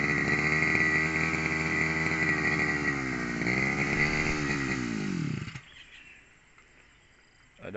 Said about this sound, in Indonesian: Oke, mesin sudah nyala lagi.